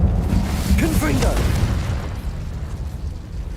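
The Confringo blasting spell explodes in Hogwarts Legacy: a booming burst near the start that decays into a rumbling tail, heard under a voice speaking.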